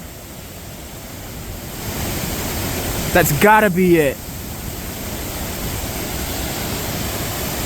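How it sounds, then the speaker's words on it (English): A waterfall in the Adirondacks sends up a steady, distant rushing roar that holds throughout, with a person speaking briefly over it. "But check out this waterfall."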